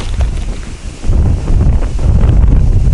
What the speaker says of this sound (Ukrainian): Боковий вітер сьогодні.